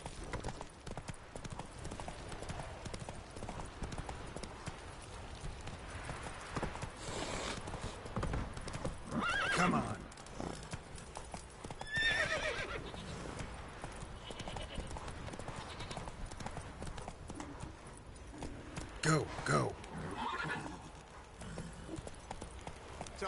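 Roach, a horse in The Witcher 3 on PS4, gallops with steady clip-clop hoofbeats and gives a couple of whinnies, while someone speaks briefly over the riding sounds.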